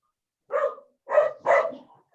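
A dog barks three times, clear and fairly close, with the last two barks coming in quick succession, against an otherwise quiet background during a parish council meeting.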